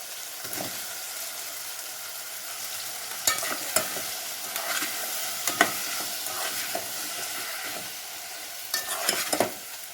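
Onions, tomatoes and vegetables such as brinjal and potato sizzle in a pan for sambar, a continuous soft frying hiss broken by sharp scraping knocks of a stirring spoon every few seconds.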